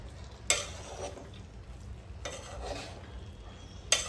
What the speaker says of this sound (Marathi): आता मी ह्यामध्ये राईस टाकते